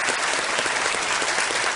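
A studio audience on a television quiz show applauds, a loud, continuous wash of clapping with no pauses, heard alone for its whole short length.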